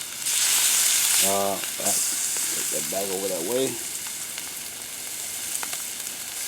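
Red snapper fillets sizzle steadily in a hot pan for blackened fish, a continuous bright hiss with someone speaking briefly over it.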